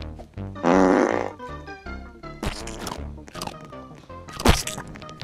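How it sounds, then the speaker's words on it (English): Cartoonish fart sound effects in the Roblox game Fart Attack: a long buzzy blast near the start, then several shorter raspy bursts and a sharp loud one near the end, mixed with game noises. "then you just fart it, uh, fart on them"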